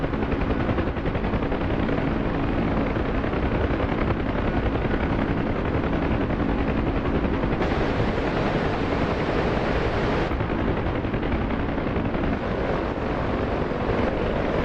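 Heavy gunfire aimed at a helicopter in a video game, a loud, continuous broadband roar with rapid rattling shots over steady rotor and engine noise throughout, no voices.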